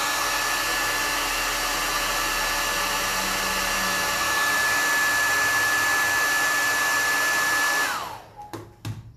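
A hair dryer blows steadily on paint, a loud continuous whirring hiss with a high whine, then switches off near the end followed by a few faint clicks.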